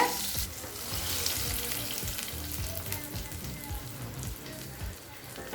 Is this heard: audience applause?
no